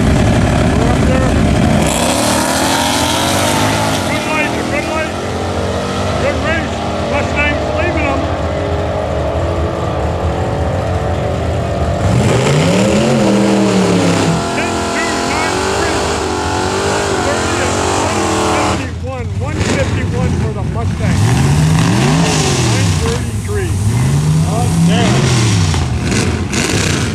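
Drag race cars, including a Camaro, launch at St Thomas Dragway, engines revving hard with sweeping rising and falling pitch, loud and close, under excited talk.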